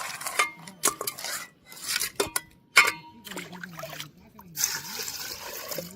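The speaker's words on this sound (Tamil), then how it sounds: "நான் வந்து நண்டும் எறாவையும் கழுவிட்டு இருக்கேன்" Crabs and prawns being washed by hand in a container of water, with irregular splashes, trickles and clinks of a vessel, close by, while someone talks over much of it.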